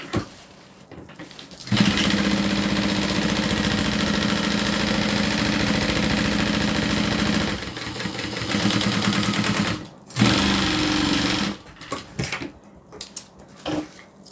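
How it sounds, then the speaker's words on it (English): A sewing machine stitches down the side to join two fabric pieces, running in long continuous bursts of fast mechanical rattle, stopping briefly, then starting again with shorter runs. "now I'm going to sew down the side just to connect these two pieces together"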